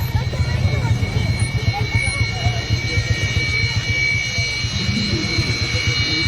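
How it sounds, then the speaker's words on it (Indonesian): Jet airplanes fly overhead with a steady, loud roar that holds throughout, continuous engine noise with no distinct pauses. "Wah, pesawat-pesawat banyak geng."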